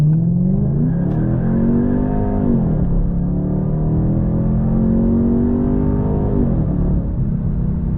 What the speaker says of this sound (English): That's a lot of exhaust noise.